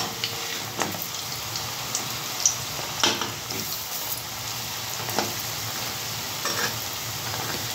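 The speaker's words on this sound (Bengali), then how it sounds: "তো বড়াটা আমি এখন ভেজে নেব বন্ধুরা।" Eggplant fritters (begun bora) fry in a pan of oil with a steady, close hiss and crackle, broken by a few sharp clicks and taps as they are stirred and turned.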